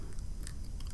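A crunchy ghost pepper chicken wing is bitten and chewed up close in one brief, crisp crackle of mastication, with no talking.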